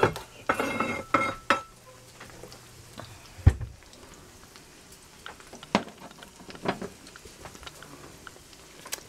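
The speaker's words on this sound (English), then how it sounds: "I'm going to get a platter out." A serving platter is pulled out and handled in a kitchen, giving a few sharp clatters and knocks of dishware near the start and middle, with lighter clinks and faint background sizzle between.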